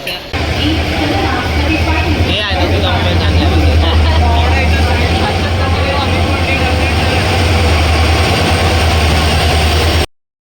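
A heavy train engine at a railway platform drones loudly and continuously with a deep low rumble, amid busy background noise and voices, then cuts off abruptly at the end.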